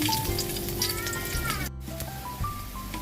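Garlic sizzling in a hot pan while igado, an Ilocano pork dish, is being cooked, a steady frying hiss under background tones and clatter, interrupted by a brief sharp burst of noise.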